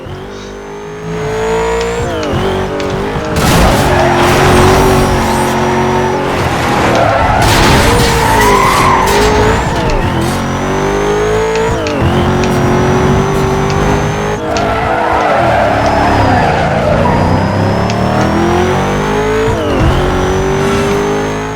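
BMW M3 racing in Need for Speed Most Wanted, a loud continuous engine roar with rising and falling revs and repeated tire squeals through the turns.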